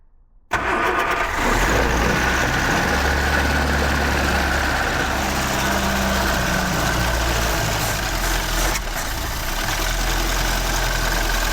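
A fire-damaged 1969 Ford Escort MK1 van fires up on choke in the cold after a short silence. The engine then settles into a loud, steady close-up idle with a deep, slightly uneven rumble.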